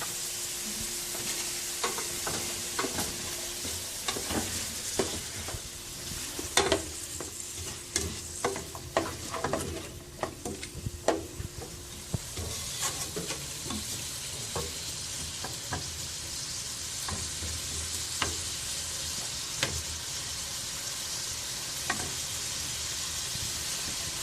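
Tomatoes and wine reducing in a hot pan, a continuous close sizzle and bubbling broken by scattered clicks and scraping stirs, with no talk over the cooking.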